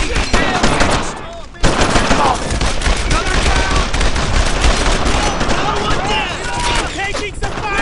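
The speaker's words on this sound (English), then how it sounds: "Taking some fire here! Get down, man! Get the hell over there! Jesus, they're shooting at me!" Heavy gunfire and machine-gun bursts from a World War II battle in Brothers in Arms 2 rattle continuously at close range, loud and dense throughout, with shouted voices mixed into the chaos.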